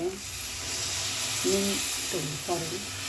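Tamarind water poured into a hot pan of garlic and small onion gojju, giving a steady broad sizzle and hiss with faint stirring clinks underneath.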